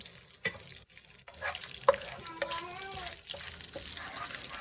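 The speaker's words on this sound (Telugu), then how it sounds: "ఆయిల్ వేడైన తర్వాత బిర్యానీ ఆకు, ఆనస పువ్వు, లవంగాలు, యాలకులు వేసుకొని ఫ్రై చేయాలి." Bay leaf, star anise, cloves and cardamom fry in hot oil and butter for jeera rice, with a quiet steady sizzle and occasional stirring clinks while someone talks over it.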